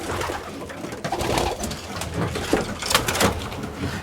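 Pigeons coo continuously inside a loft, close and fairly loud, with occasional sharper clatters and rustling mixed into the cooing.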